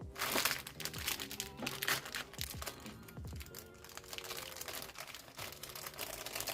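Plastic packaging around a Re-Ment Pikmin toy crinkles and crackles close up as it is cut open, a busy stream of small snaps and rustles at moderate volume without talk.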